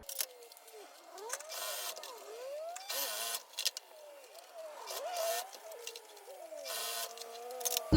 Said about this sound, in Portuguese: eu vou passar uma costurinha de segurança nessas duas partes